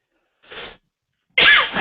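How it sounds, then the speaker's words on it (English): A man sneezes mid-webinar while working at a computer: a soft intake of breath, a short pause, then one sharp, loud, close sneeze. "I've been sneezing a little bit this morning."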